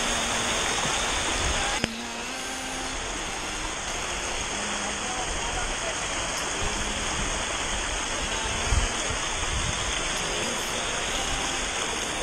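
A river stream rushes along a trail on Mount Kinabalu, giving a steady, loud broadband wash of flowing water that runs through the whole stretch with little change.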